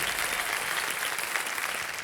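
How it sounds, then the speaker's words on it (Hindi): A studio audience on a televised quiz show applauds young child contestants, a thick, continuous roar of clapping that stays loud and even throughout the brief moment. "एक हैंड तालियां बजती रहे बच्चों के लिए।"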